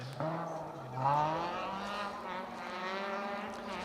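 A Ford Fiesta ST150 rally car in the R2 class on a closed stage of the Malcolm Wilson Rally 2024, its engine rising in pitch and loudness as it approaches and passes.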